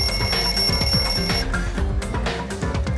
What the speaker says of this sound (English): The lounge's wall clock alarm started ringing at 5:30.